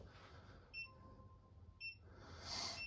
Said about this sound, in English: there's the beeping sound